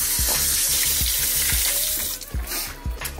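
Tap water running steadily into a sink while a hand is wetted for handling bread dough, a close, continuous splashing rush with a few soft knocks in the background.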